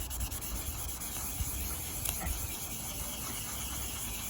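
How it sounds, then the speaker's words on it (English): Sandpaper rubs back and forth across a scratched plastic screen of a Grandstand Munchman tabletop game, a quiet, close, scratchy rasping in short uneven strokes. "You might think I'm crazy actually sanding it with paper"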